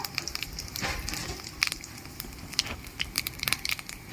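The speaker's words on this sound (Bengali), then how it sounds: "সামান্য একটু তেল দিয়ে দিলাম জিরে ফোড়ন দিয়ে দিচ্ছি শুকনো লঙ্কা" Cumin seeds and dried red chili sizzle in a little hot oil for a crab curry, giving close, steady crackling with sharp pops scattered throughout and no talking.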